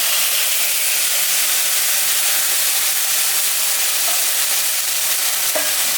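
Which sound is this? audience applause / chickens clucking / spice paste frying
spice paste frying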